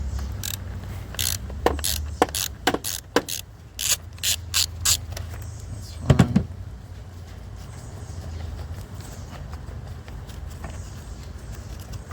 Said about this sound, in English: I'll use the same, use my ratchet for the one in the back